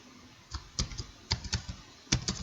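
Typing on a computer keyboard while building a Kahoot quiz, with irregular bursts of close, crisp key clicks clustered in quick runs with short pauses between them.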